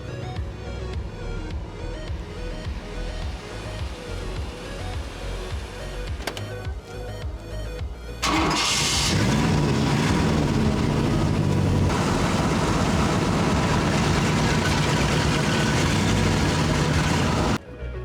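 A 1965 Meteor Montcalm V8 coupe turns over and catches, then settles into a steady, loud idle with a low rumble that holds evenly before cutting off abruptly at the end.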